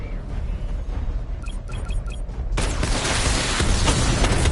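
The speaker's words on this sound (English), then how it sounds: "Missile barrage level 2 ready." Missile barrage firing in the video game Batman Arkham Knight: a few short electronic beeps, then a sudden loud burst of rapid blasts and booms that continues to the end.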